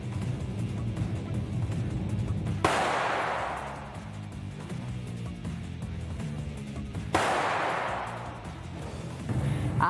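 Two sharp gunshots crack out several seconds apart during shooting practice, each followed by a decaying echo over a steady background rumble.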